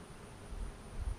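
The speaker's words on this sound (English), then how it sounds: "Gently, you got bees over here." Honey bees buzzing around an open hive during a beekeeper's inspection, a faint, steady drone with a few soft bumps of handling nearby.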